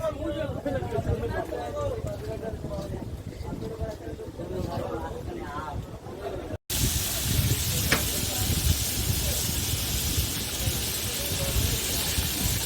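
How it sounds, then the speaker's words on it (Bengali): Chicken and fish frying in hot oil, a broad steady sizzle and hiss that swells loud in the second half, with people talking over the cooking. "এই তো হয়ে যেতেছে আমাদের চিকেন ফিশ ফ্রাই"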